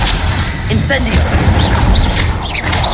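Incendio fire spell cast in Hogwarts Legacy, with a dense roaring burst of game combat noise and booming impacts filling the moment, loud and close, alongside a spoken incantation.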